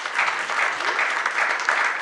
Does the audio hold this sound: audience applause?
yes